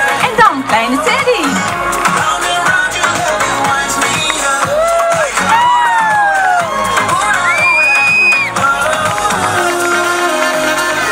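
Loud crowd cheering at an outdoor village show, with children shouting and whooping in bursts throughout, voices rising over a dense, lively din.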